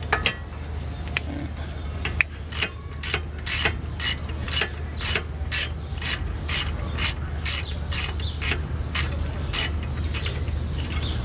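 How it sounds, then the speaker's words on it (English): A 17 mm socket on a ratchet clicks in rapid, regular bursts while loosening caliper bolts on a 1997 Honda Civic DX, close and clear over a low steady hum. "I'm gonna break these two bolts here with this 17 millimeter socket."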